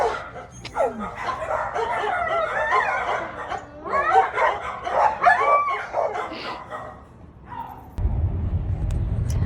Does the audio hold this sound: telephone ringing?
no